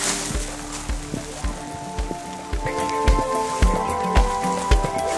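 Rain falls steadily in a dense, close patter of drops on a hard surface, with a low rhythmic thudding running beneath the wash of noise.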